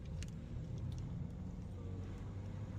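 Hybrid car driving on the road, a steady low rumble of tyres and engine heard from inside the car, no talking.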